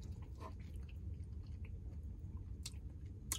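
A person eating in a van chews with wet mouth smacking, close to the mic, over a low rumble, with a few sharper clicks near the end.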